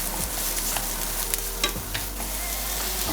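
Ginger and other aromatics sautéing in a stir-fry pan, a continuous soft sizzle with occasional stirring scrapes and light taps, heard up close with no voices.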